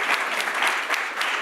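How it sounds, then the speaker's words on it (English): An audience at a fireside chat applauds Eva, a steady, dense wash of many hands clapping at moderate loudness throughout the short stretch. "Should give her a clap."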